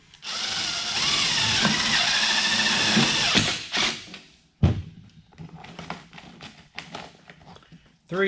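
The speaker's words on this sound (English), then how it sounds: "we're going to run screws into this" A power drill drives screws into an airplane pre-heater, a sustained high whine for about three seconds, then stops, followed by short bursts, taps and mechanical clicks nearby.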